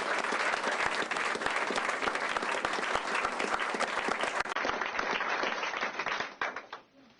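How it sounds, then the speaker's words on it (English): An audience applauds steadily at a hospital emergency room opening event, dense clapping sustained for several seconds before tapering off at the end. "please, let's give them a round of applause."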